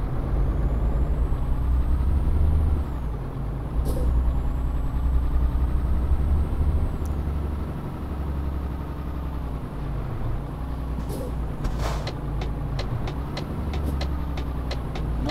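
A truck in Euro Truck Simulator 2 idles with a low, steady engine rumble, punctuated by several sharp air brake hisses and a series of quick clicks near the end.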